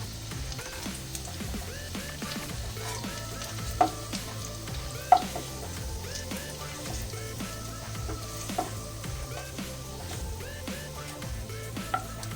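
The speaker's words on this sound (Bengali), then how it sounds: "অল্প অল্প করে দিয়ে আমি ভেজে নিচ্ছি এগুলোকে গোল্ডেন কালার করে।" Balls of chhana (cottage cheese) frying in oil, a steady close sizzle and bubbling with occasional clinks and scraping of a utensil stirring in the pan, no talk.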